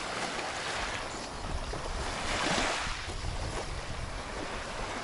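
Sea waves at Kineta beach in Greece, with mountains and boats nearby, wash in as a steady broadband roar that swells around the middle, with some wind buffeting the microphone and no talking.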